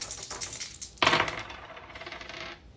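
Dice for The Thing board game tumble onto a table in a short clatter, with one sharp burst of rattling hits midway that trails off into lighter settling clicks, close by and with no talk.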